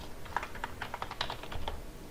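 Rapid typing on a computer keyboard, a close, quiet run of crisp key clicks in an uneven rhythm with no talking.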